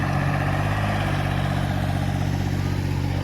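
A small backhoe engine runs steadily while digging footings at a factory building site, a continuous low rumbling drone close by with no pauses.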